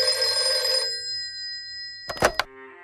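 Telephone ringing sound effect, a bright electronic ring that fades, then a short clattering burst and a softer tone after a pause, loud and close with no talk.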